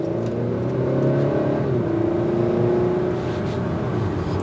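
A 2022 Honda Accord Sport with the 2.0-litre turbo engine pulling under acceleration from inside the cabin, a steady low engine drone rising gently in pitch, fairly loud and continuous.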